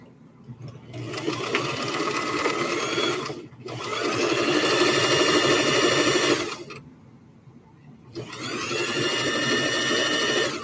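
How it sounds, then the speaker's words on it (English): A sewing machine runs a straight stitch on fabric for hair scrunchies, loud and close, in three sustained bursts separated by short pauses. "I might just stick to straight stitch for the rest of the night"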